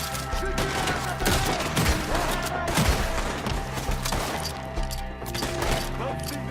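Dense, continuous gunfire from Red Dead Redemption II fills a shootout, with overlapping rapid shots and crashing impacts that keep up without pause, loud and close throughout.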